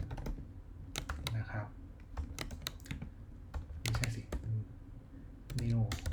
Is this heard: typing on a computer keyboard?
yes